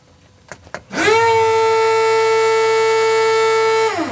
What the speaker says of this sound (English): yes, noisy fuel pumps.